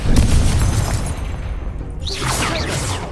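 A Confringo spell blast in the Hogwarts Legacy video game, a loud booming explosion with crashing debris up front, fading into a swishing, shimmering magical tail.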